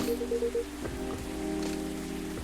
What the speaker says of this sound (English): That's just the rain.